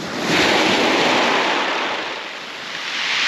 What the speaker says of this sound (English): you can see where the waves are breaking, sort of 6 foot.